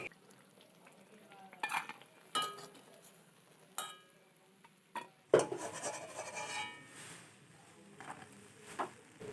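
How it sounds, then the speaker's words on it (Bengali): Semolina sweets fry in a pan of oil, with a soft sizzle under scattered clinks and scraping strokes as they are turned, including one louder clatter midway, heard close and without talk. "এরকমভাবে দু সাইড ভালোভাবে লাল লাল করে ভেজে নিয়ে তুলে নিতে হবে।"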